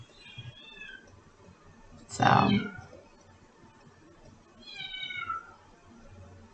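A kitten meows three times, the middle cry loudest and rising sharply, with the others thinner and higher, while a person speaks briefly nearby.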